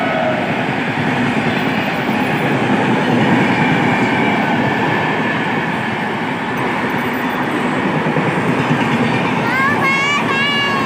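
An empty train runs steadily with a continuous loud rumble and clatter of wheels on rails, close by, with a brief high wheel squeal near the end.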